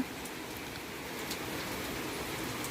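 Sudden rain falls steadily outside a village home, a continuous hiss of drops on surfaces that holds at an even level throughout, with no voices.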